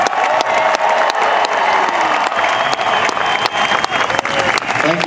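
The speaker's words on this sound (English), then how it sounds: "please give them all one final rousing cheer" A large audience cheers and applauds at the 2012 Edinburgh Tattoo finale as the cast marches away down Castle Hill. The clapping and cheering are loud and dense, a steady roar that continues unbroken to the end.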